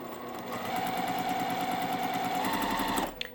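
A sewing machine chain-pieces small quilt block units in one continuous run of fast, even stitching, close and clear, that stops abruptly near the end.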